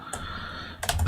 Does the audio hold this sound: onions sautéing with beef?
no